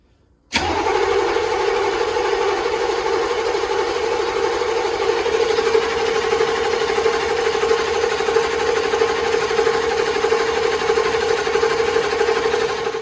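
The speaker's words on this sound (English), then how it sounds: "crank it over and bleed it out, and hopefully it fires up after that" An M998 Humvee diesel engine cranks for a brief moment, catches abruptly, then settles into a loud, steady idle that drones on without a break.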